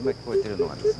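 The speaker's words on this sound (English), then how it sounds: "The sound you hear is an infant's whisper." Four short, soft whimpers in quick succession from a young ape, each a brief rising-falling whine, close and faint against a steady background hiss.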